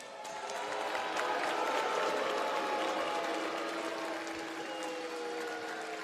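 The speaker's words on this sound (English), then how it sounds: "I demand that all of the citizens of TNA rise and give me a proper round of applause" Audience applause at a TNA iMPACT! wrestling show, a broad, steady wash of clapping and crowd noise filling the arena for about six seconds with no clear talk over it.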